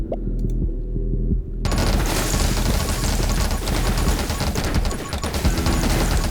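Rapid automatic gunfire from the video game 20 Minutes Till Dawn, a dense, continuous stream of shots mixed with game music, loud and close throughout after a brief quieter opening.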